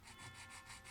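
Diamond file rasping across guitar frets while leveling a fretboard, a faint, rhythmic back-and-forth scraping of about four quick strokes, heard alone.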